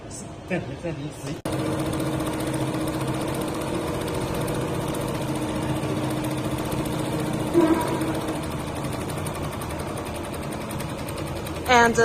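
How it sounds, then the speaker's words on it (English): An automatic embroidery machine stitches an applique, its motor humming and needle chattering in a steady mid-pitched mechanical drone for most of the clip after a short start, with faint voices or background noise at the opening. "press start button. The machine will start automatically"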